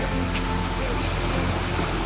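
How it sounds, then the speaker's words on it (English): Boat engines of an approaching drug runners' vessel at sea, a steady low droning rumble mixed with wind and water noise, continuous and fairly loud throughout. "You can hear the engines now."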